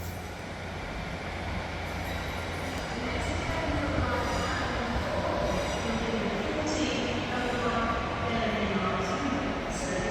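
Class 156 diesel train pulling out of Newcastle station, its engine drone and wheel noise loud, steady and close throughout, with squeals and station sounds over it.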